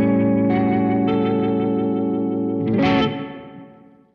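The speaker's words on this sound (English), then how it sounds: "Maybe some modulation. Maybe, ooh, vibratone's cool." A Fender Mustang LT40S guitar amplifier plays a sustained electric guitar chord through its vibratone modulation effect, a warbling, swirling tone with a rise in brightness before the ringing notes slowly fade out.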